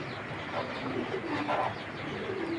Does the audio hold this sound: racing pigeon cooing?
yes